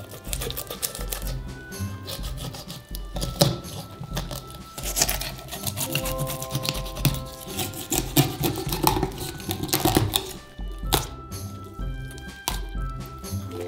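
A knife cuts the head off a large cendre fish for an eighteenth-century royal fish soup, with close scraping, crunching and squelchy rasps in irregular bursts as the blade works through flesh and bone, with no voice over it.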